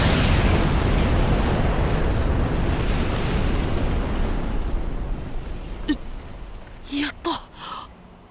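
A bomb blast in the video game World's End Club: a loud, roaring explosion that rumbles and slowly fades over several seconds, followed by a few short voiced gasps or exclamations near the end.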